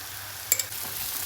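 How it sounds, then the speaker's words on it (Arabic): Meatballs seasoned with oregano and curry stirred in a hot pan, a low steady sizzle with a couple of brief spoon scrapes against the metal, close and quiet, no talking. "نقلبهم شويه"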